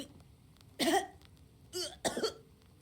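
Three harsh, dry coughs come close together, the first strong, followed by a softer one and a final forceful cough, with no talking.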